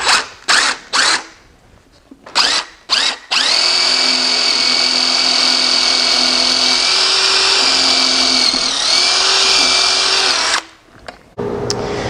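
Power drill driving bolts into a plastic bird feeder, a few short bursts and then a long, loud, steady whine for about seven seconds before it stops.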